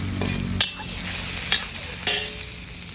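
Onion and garlic sizzle in a hot pan, with a spoon scraping and stirring through the frying at a few separate moments.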